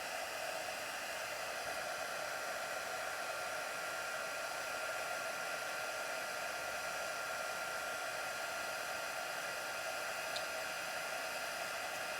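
A heat tool blows a constant, even whoosh close by while it warms and melts embossing powder on a handmade card, with no voices.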